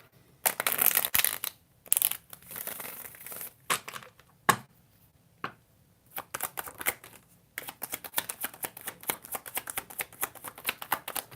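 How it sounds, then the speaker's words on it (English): Playing cards shuffled by hand in repeated bursts of crisp riffling and flicking, close up, with brief pauses between runs and a dense rapid stretch toward the end. "the cards are flying, you guys, but because of where I'm shuffling, you can't see them."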